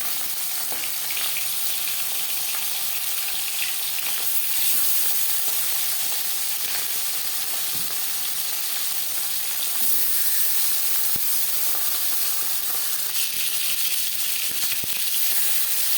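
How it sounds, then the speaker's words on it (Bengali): Marinated fish fries in a few spoons of hot refined oil, giving a dense, even sizzle and hiss that holds steady at moderate level throughout, with faint crackles and no speech. "এবার দিয়ে দেবো ম্যারিনেট করে রাখা মাছ"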